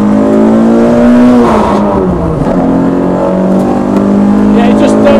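A 198bhp RenaultSport Clio 172 weighing 900 kg revs hard on a race track, its engine note loud and close with a steady rising and falling harmonic drone that dips briefly mid-clip before climbing again, with a driver talking over it.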